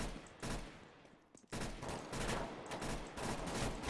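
Rapid gunfire in the video game CS:GO, loud repeated bursts of shots crackling almost continuously across the clip, with one brief lull in the middle.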